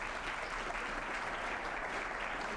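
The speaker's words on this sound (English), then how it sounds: "I wonder if you could offer a warm round of applause to each of our panelists." Audience applause for a church history panel, a steady, distant wash of many hands clapping that holds evenly throughout and is fairly faint.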